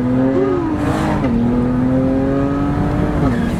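A twin-turbo street racing car engine idles loud and close with a steady drone, its pitch rising and dipping in short revs, on a Mexican street at night.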